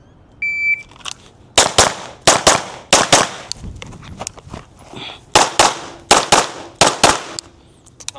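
Atlas Gunworks Apollo pistol fired rapidly at multiple targets, sharp loud cracks in quick pairs and bursts, with a timer beep at the start and a pause while moving between positions.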